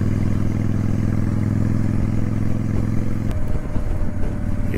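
A motorcycle passing on a rural road heard from a rider on a Honda 750 Shadow Spirit, a loud steady engine drone that drops off abruptly partway as the other bike goes by.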